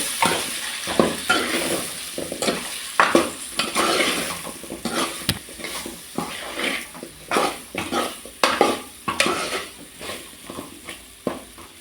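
Sambar ingredients with salt sauté in a pan in a Kovai-style home kitchen, the spoon stirring and scraping in repeated close strokes over a steady sizzle, with no speech.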